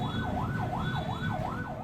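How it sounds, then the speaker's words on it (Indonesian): An ambulance siren wails in a steady rising-and-falling pattern, repeating about four cycles, moderately distant amid traffic congestion on a busy arterial road, with no talking. "Bahkan ambulans yang mengangkut pasien kritis terjebak di tengah kemacetan."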